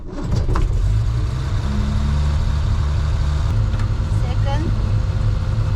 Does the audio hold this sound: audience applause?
no